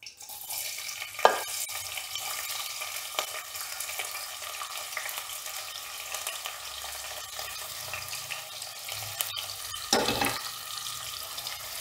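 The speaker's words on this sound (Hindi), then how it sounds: "इसको थोड़ा फ्राई करने के बाद मैं प्याज को ऐड करूंगी।" Cloves, cinnamon and onion fry in a pan for khichdi, giving a soft, continuous sizzling hiss broken by two sharper stirring clatters, one early and one late.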